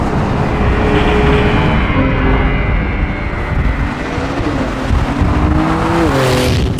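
A Porsche 911 (992) sports car engine revs hard and climbs in pitch, loud and close, with rising harmonics as it accelerates and gear shifts.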